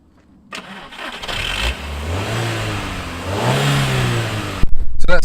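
A car engine cranks, catches and starts, then revs up and settles, loud and close, ending with a clunk.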